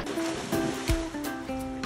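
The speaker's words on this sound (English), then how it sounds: "Look how cute she is, paddling in the pool." Pit bull paddling in a swimming pool, a steady wash of splashing and lapping water with a few sharper sloshes, close and fairly loud throughout.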